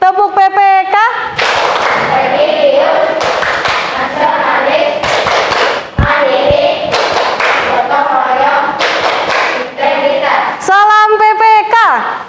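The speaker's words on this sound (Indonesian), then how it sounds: "tepuk PPK" A group of children in a classroom does a rhythmic patterned clap, the tepuk PPK, alternating bursts of sharp claps and thumps with chanted voices and singing.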